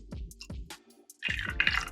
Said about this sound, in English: Now what I'm gonna do is just pour it in.